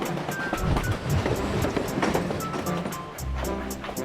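A steady cartoon clickety-clack of a train travelling, with fast, evenly spaced rhythmic clicks over a rolling rumble, fairly close and continuous with no talk.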